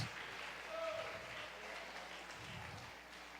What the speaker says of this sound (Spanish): Alguien aplauda a Dios con todas sus fuerzas.